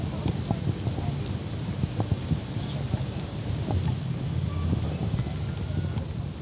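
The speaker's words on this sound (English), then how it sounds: "You could see the rain teeming down, but we're playing on." Rain teems down on an outdoor cricket ground during a match, a dense, steady hiss with scattered patters and light wind buffeting on the microphone.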